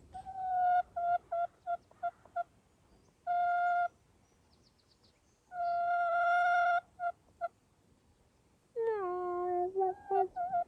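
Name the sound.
chicken vocalizing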